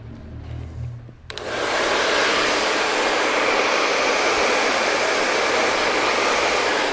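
Hair dryer blowing on hair after a barbershop fade haircut, switching on abruptly and then holding a loud, steady, close roaring whoosh without pause.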